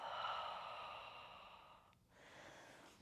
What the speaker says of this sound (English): release the Ujjayi breath